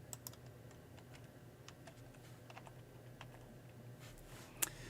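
Typing on a computer keyboard, soft scattered keystrokes with a louder tap near the end, faint and close over a low steady hum, with no voices.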